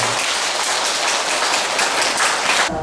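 A Buddhist congregation at a temple dharma service claps loudly to welcome a monk. The dense, even clapping fills nearly three seconds and then cuts off sharply.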